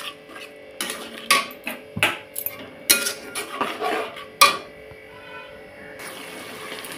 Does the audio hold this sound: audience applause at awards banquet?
no